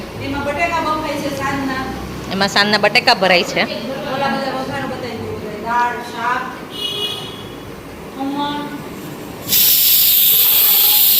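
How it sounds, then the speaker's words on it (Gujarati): A pressure cooker whistle sends out a sudden, loud, sustained hiss of escaping steam near the end, after voices chatter in the kitchen. "અહીંયા કુકરની સીટી પડે છે"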